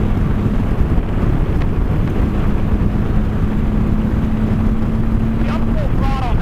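A 2023 Can-Am Spyder runs at full throttle while heavy wind buffeting roars over the microphone and nearly buries the engine's steady drone. Brief muffled voices come through the noise.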